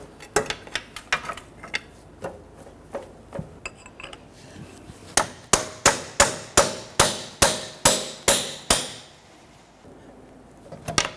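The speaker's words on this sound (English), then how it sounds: "by tapping a small pry bar on the ridge of the inner axle stub shaft there, we're able to break that C-clip free" Small pry bar tapped against the inner axle stub shaft of a 1992-1996 Toyota Camry front CV axle, giving a run of close, sharp metallic knocks, faster and louder in a steady series near the end, with a brief spoken remark.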